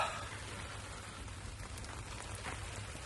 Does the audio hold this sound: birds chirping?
no